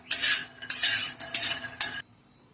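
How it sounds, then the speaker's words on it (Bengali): Nuts being dry-roasted for healthy laddus scrape and rattle in a pan in four bursts of brisk stirring, close and clear, then stop into near quiet. "বাদামগুলো এরকম ভেজে নেবো একটু"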